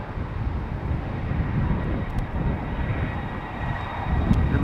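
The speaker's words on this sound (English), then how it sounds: "the A330-200 outbound to Sint Maarten, turning onto the runway" A Delta Airbus A330-200 turning onto the runway at Schiphol Airport, its jet engines producing a steady, fairly loud low rumble from a distance.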